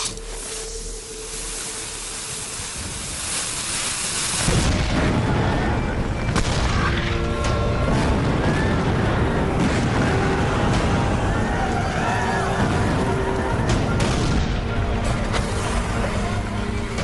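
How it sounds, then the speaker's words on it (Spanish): Union cannon artillery fire at the Battle of Gettysburg: a heavy boom breaks through a low rumbling backdrop, followed by a dense, continuous roar of blasts and battlefield din that stays loud and sustained. "Pero se encontrarán con 20 cañones de la Unión a 350 metros de distancia, capaces de hacer 2 disparos por minuto."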